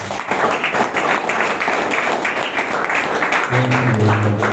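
A crowd at a young pharmacists' zonal summit applauds steadily, a continuous wash of many clapping hands filling the hall at close range, with a faint tonal hum appearing near the end.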